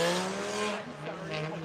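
A loud car with a broken muffler passes at a protest, its harsh rumbling exhaust roaring briefly over the crowd ambience.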